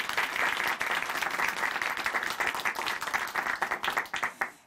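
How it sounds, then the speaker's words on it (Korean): Sustained audience applause at a Korean church testimony program, dense clapping from a crowd filling the room after a sister's faith testimony, steady and fairly loud before thinning slightly at the end. "오늘 귀한 간증 전해주신 자매님께 다시 한번 박수 보내드리겠습니다"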